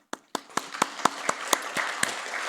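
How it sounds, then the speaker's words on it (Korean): A church congregation claps together during a Korean Methodist Sunday morning service, sharp hand claps at first rhythmic and evenly spaced, then blurring into a softer scattered applause heard at a moderate distance. "박수 한번 칩시다."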